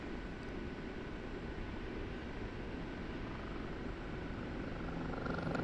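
Steady, continuous engine and rotor drone of an OH-58D Kiowa Warrior helicopter in the DCS flight simulator, holding a constant level for several seconds.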